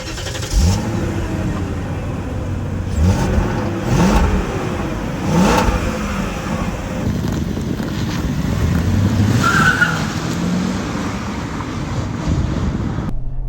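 A 1999 BMW 540i sedan with a six-speed manual drives along a road with a steady engine hum, swelling as it accelerates, with wind and road noise throughout.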